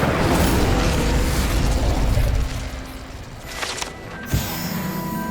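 Incendio fire spell cast in the video game Hogwarts Legacy, a loud roaring burst of flame that fills the opening seconds, then fades into a quieter rumble with a sharp magical pop near the end.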